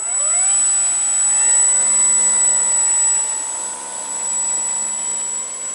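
A Dynam Tiger Moth radio-controlled model biplane on its maiden flight takes off, its electric motor whining continuously and loudly with a rising pitch that levels into a steady drone, a constant high tone above it.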